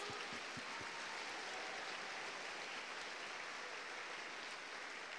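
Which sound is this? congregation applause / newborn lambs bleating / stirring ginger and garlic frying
congregation applause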